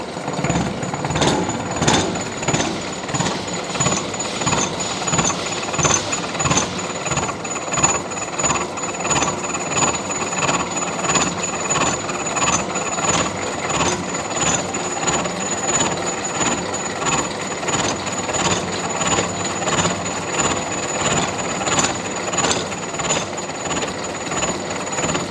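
A milling machine cuts a spur gear, taking a 4 mm deep pass through the workpiece with a steady, continuous grinding chatter and rhythmic vibration, close and loud throughout with no talk.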